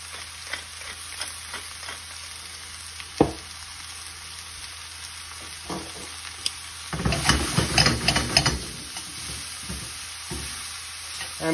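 Vegetables seasoned with salt and pepper frying in a pan before beef goes back in, a steady low sizzle with occasional spoon clinks and a louder burst of stirring and scraping midway.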